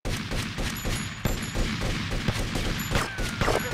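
Gunfire in the video game GTA during an attack on a police station, heard as a dense, continuous rattle of shots with sharper individual cracks. The firing is moderately loud and steady and runs throughout.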